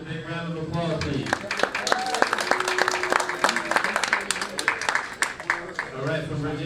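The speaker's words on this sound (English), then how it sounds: "Let's give our two competitors a big round of applause, please." Spectators at a Maryland State 9-ball bar table championship clap for two pool players, scattered hand claps building over an announcer who keeps talking the whole time.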